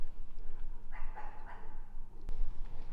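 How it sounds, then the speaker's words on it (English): A guard dog at the Cavendish Fluorspar Mill gives a few distant, muffled barks and whimpering yips over a steady low hum. "Shit, Paul, there's a guard dog."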